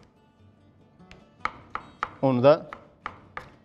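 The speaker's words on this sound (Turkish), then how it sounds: "Şimdi domatesimi de minik minik doğrayacağız." Knife finely chopping tomatoes on a cutting board in a kitchen: a steady series of sharp, close taps, with a brief thicker burst of chopping and a short spoken phrase partway through.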